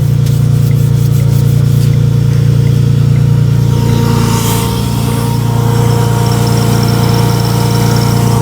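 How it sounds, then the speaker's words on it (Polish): A car engine with a slipping belt, idling loud and close, its belt giving a sustained high squeal over a strong steady hum, with no talk. "jakiś pasek piszczy."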